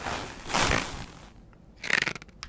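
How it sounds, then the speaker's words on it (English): Creaking and crunching stress sounds from a leather jacket being handled and a rubber sandal being squeezed come close and quiet. There are two broad, noisy bursts with some faint crackles between them, and no voices. "It's just different rubber and leather stress sounds."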